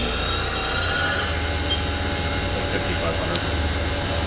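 A Haas VF2 vertical machining center with a 7,500 RPM spindle and two-speed gearbox spins at high RPM, a steady whine with a tonal edge holding constant under a broad machine hum throughout.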